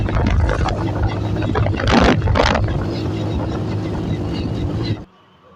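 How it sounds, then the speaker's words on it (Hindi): A Hero Passion Pro motorcycle engine runs with a misfire, giving a rough, uneven idle thump with a couple of louder bursts midway. The engine is heard close up and cuts off abruptly near the end. "गाड़ी चलती है और मिक्स फायरिंग कर रही है, धुक धुक धुक धुक कर रही है।"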